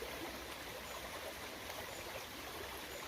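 A stream on the Superior Hiking Trail babbles and trickles steadily while a hiker ices their feet in the chilly water, a continuous, moderately faint, even wash of flowing water.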